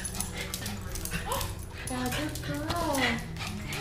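Puppies whimper and yip in a lively indoor scene, their high cries rising and falling close by while people talk over them almost throughout.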